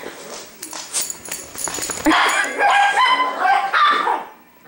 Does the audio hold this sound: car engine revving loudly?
no